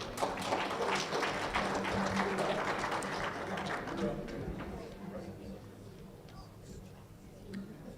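At an auctioneers and ringmen championship, the audience claps for exhibitors, a lively burst of applause that fades after a few seconds into quieter room noise with talking.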